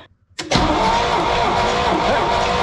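An old, long-dormant rare Corvette engine cranks briefly after a moment of near silence, then catches and roars into a loud, steady idle close to the microphone.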